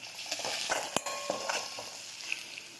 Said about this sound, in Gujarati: લીલા મરચાં નાખીશું, મીઠા લીમડાના પાન નાખીશું અને સાંતળી લઈશું